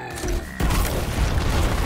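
Grenade blast in the tactical video game Gears Tactics: a loud, close boom with a rumbling low-end tail that fills the short moment, no talk over it.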